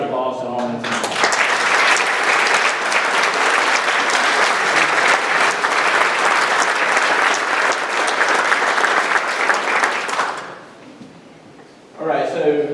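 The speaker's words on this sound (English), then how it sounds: "let's give a round of applause to all my team" A burst of loud, dense applause from an audience lasts about ten seconds, then dies away before a voice resumes speaking.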